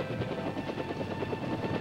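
A light observation helicopter flies over dense jungle during the Vietnam War, its rotor giving a steady, fast thudding chop under a continuous engine whine, moderately close and heard alone.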